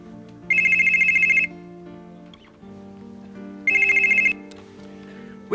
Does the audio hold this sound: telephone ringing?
yes